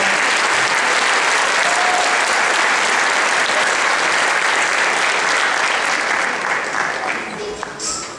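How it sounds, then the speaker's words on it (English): An audience at a high school Christmas concert gives loud, continuous applause. The sound is a thick wash of many hands clapping, holding steady and then tapering slightly toward the end. "One more round of applause, please."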